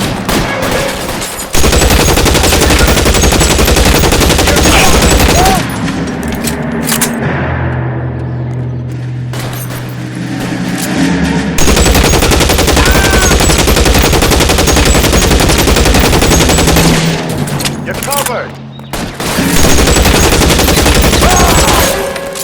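Sustained, very loud automatic gunfire pours out in long bursts during a video game shootout in LA Noire, broken by a brief lull and a short pause before it resumes, with no talking.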